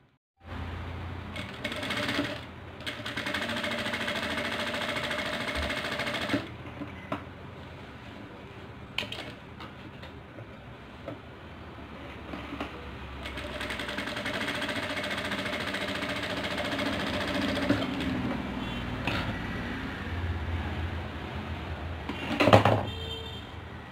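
A sewing machine runs in two long stretches, stitching lining material along both sides of a neckline on a single-colour top, a fairly quiet steady whir with a short stop between runs and a knock near the end.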